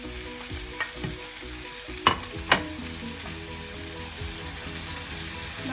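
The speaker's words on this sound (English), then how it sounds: "Now we just need to stir the onions with the pumpkin." Onions sizzle with boiled pumpkin in a pan for okra and pumpkin curry, a low continuous fry under occasional spoon stirs and a couple of sharp clacks against the pan.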